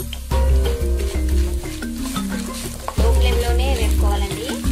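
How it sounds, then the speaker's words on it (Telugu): Chana dal and urad dal, a tablespoon of each, hit hot oil in a pan and fry with a loud, steady sizzle, while a spoon scrapes and stirs now and then. "ఆయిల్ వేడైందండి. ఇప్పుడు 1 టేబుల్ స్పూన్ శనగపప్పు, అలాగే 1 టేబుల్ స్పూన్ మినపప్పు దోరగా ఎర్రగా వేసుకోవాలి"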